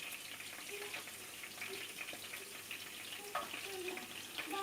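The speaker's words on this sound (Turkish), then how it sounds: "Çok yüksek ayarda pişirmiyorum biberleri." Soft, steady sizzling of peppers frying in a pan on moderate heat, low and continuous, with a few faint clinks and light scraping noises.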